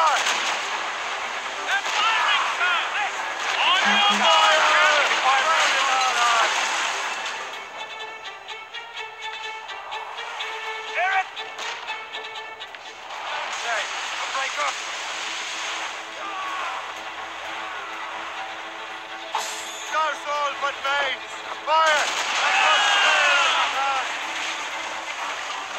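Ship cannons fire in a naval battle in Assassin's Creed Rogue, heavy booming volleys repeating at sea under shouted crew orders and music, with people talking throughout.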